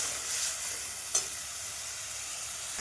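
Cumin, coriander, chilli and turmeric spice paste frying in oil for a fish curry with potato and pointed gourd, a steady close sizzle with a faint stir clink, no talking.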